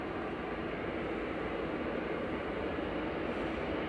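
An EasyJet airliner passes at Manchester Airport with a continuous, moderately loud jet rumble that holds steady and fairly distant, with no talking.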